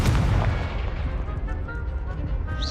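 Confringo blasting spell explosion in the Hogwarts Legacy video game, a loud booming blast with a rumbling low tail and debris crackle, close and continuous with no talk.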